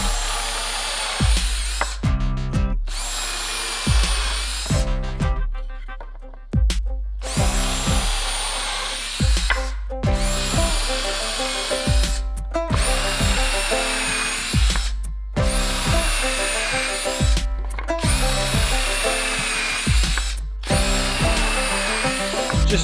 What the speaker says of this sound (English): We're gonna drill our pilot holes here.